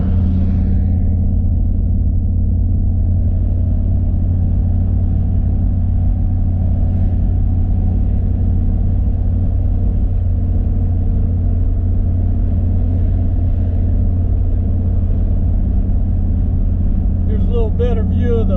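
A car towing a U-Haul car hauler drives along a road near San Manuel, Arizona, its engine and tyre noise a steady loud drone throughout, with a brief sharper sound near the end.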